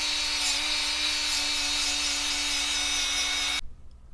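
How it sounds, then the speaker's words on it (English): A die grinder strips paint from a thick steel tube, a steady high-pitched whine with a constant grinding hiss that runs loud and close for several seconds before cutting off abruptly. "I'm gonna grind the paint off here with the die grinder"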